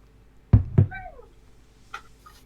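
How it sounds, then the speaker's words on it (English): A cat gives a short meow after two dull knocks, then a fainter second meow follows a moment later, both quiet and close. "I'm hearing cat noises."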